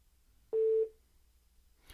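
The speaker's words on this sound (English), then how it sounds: "Here you can see a second call is ringing in" A Pioneer AVH-110BT car stereo signals an incoming second call over Bluetooth during an ongoing call: a single short electronic beep, clear and alone against a quiet background.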